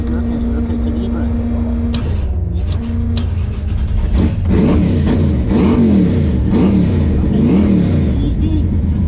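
A car pulls away at a drag strip after its first pass, its engine idling steadily and then revving up as it drives off, close and loud, with a person talking over it.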